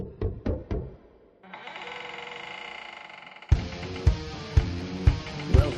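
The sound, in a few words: knocking at a door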